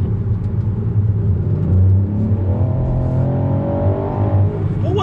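A Ford Puma ST's small 1.5-litre three-cylinder engine, set in sport mode, pulls hard and loudly from close by, its steady, throaty rumble climbing in pitch as the revs build, with no talk over it.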